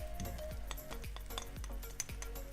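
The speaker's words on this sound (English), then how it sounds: "So what we do is, first we add the shallot which we have cut" Chopped shallots sizzle in a pan, with a steady frying hiss under repeated clinks and scrapes of a spoon stirring against the metal, quiet and close, with no talking.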